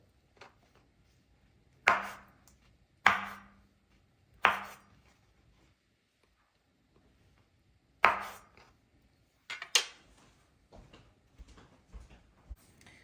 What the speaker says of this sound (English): I'm going to cut them in small pieces and then boil them for 15 minutes or so